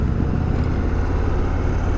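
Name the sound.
Indian Chieftain Dark Horse motorcycle riding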